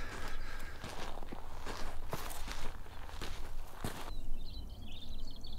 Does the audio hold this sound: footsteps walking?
yes